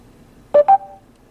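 A car's smart phone system dials out with two short, clear touch-tone beeps in quick succession. A softer tone trails off afterwards against a quiet background.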